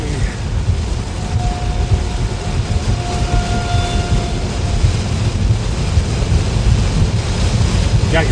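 Heavy rain pours down during a storm, heard from inside a moving Tesla as a loud, dense, continuous roar with road rumble underneath, and a faint voice briefly present.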